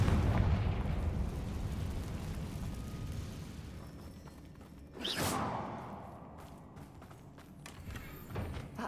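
Confringo fire spell in Hogwarts Legacy: one loud explosive burst with a whooshing tail about midway, set against quieter game ambience.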